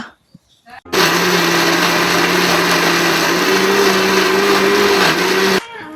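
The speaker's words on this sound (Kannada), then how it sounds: "ಇತ್ತ ಮುಲ್ಪ ಫ್ರೈ ಮಲ್ದಿತ್ತಿನ ಇಂಗ್ರೀಡಿಯೆಂಟ್ಸ್ನ ಮಿಕ್ಸಿಗೆ ಪಾಡ್ಗ ಮಸಾಲೆ ಮಲ್ಪುಗ" A kitchen mixer grinder whirs loudly and steadily for about five seconds, grinding fried masala ingredients for chicken sukka, with a sharp start and stop and no speech.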